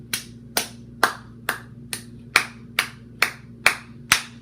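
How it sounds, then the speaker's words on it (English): Ten sharp single hand claps spaced evenly about half a second apart, close and distinct in a quiet bedroom, aimed at sound-activated LED strip lights, with a steady low hum underneath. "Let me see if I clap and it changes color."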